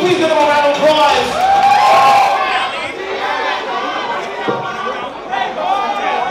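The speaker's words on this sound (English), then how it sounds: "We please give them a round of applause." A crowd at a costume ball whoops and cheers loudly, excited voices and shouting dominating over scattered applause, then settling into lively chatter.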